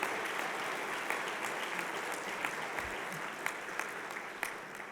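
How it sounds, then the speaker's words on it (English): A large audience at an award event applauds steadily, a thick, sustained wash of clapping with a few sharper individual claps standing out, heard alone throughout. "Give Dr. Kizzmekia Corbett a round of applause."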